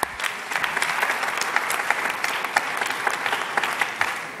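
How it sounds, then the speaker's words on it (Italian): Audience at a pharmacy conference plenary session applauds a panel speaker, a full, steady round of many hands clapping close and loud, with individual sharp claps standing out and hardly any talk. "quindi un applauso a Luigi"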